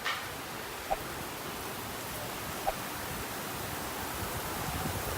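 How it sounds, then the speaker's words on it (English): Heavy torrential rain pours down in Honolulu, Oahu, in a dense, constant roar, with a couple of faint taps standing out early on. "all of a sudden, look, like torrential rain"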